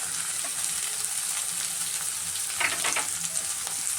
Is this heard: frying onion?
yes